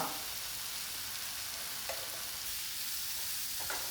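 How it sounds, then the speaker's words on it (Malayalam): Ground spices, turmeric, chili powder and coriander powder, sauté in a pan for chicken curry, giving a steady close sizzle and hiss throughout with a few faint stirring scrapes. "ഇനിയിപ്പോൾ ഇതൊക്കെ നന്നാക്കി വഴറ്റിയെടുക്കാം"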